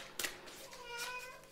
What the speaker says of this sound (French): vous avez le bonjour de mon chat Angoun